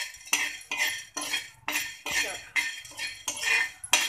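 Whole spices are stirred briskly in a pan with the gas turned off, a rapid series of about eight rhythmic metal scrapes against the pan, close and loud, with no talk.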